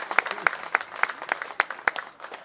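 Scattered audience clapping at a concert at Sztygarka in Chorzów, a steady rhythm of loud single claps at regular intervals over a softer background of crowd applause.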